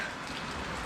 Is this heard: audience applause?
no